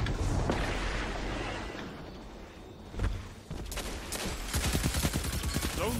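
Rapid gunfire during a Destiny 2 Crucible match, with bursts, swooshes and a dense spread of shots rising toward the end, under game noise and occasional voice.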